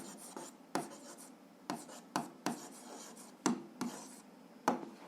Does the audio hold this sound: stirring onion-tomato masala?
no